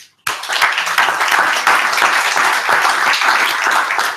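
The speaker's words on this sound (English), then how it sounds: "join me in one last final applause for the panelists" An audience at a climate policy forum gives the panelists a loud, sustained round of applause, dense clapping that starts abruptly and continues evenly, close and full.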